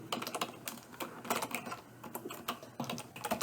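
Typing a name into a web form on a computer keyboard: rapid, irregular key clicks close to the microphone, with short clusters of strokes and brief pauses, heard alone.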